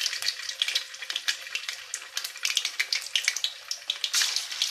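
Thai fish cakes made from clown featherback sizzle in hot oil, a dense crackling hiss with rapid popping bursts throughout, close and steady with no voices.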